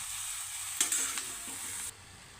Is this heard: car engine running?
no